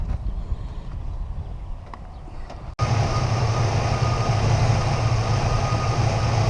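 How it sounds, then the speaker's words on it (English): An engine, fully warmed up, idles steadily after starting, with a low, even rumble that holds loud and constant once it catches. "I think you start it and let it idle"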